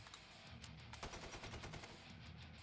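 An AK rifle in Killing Floor 2 fires a rapid automatic burst, a dense run of loud cracks lasting a couple of seconds without talk.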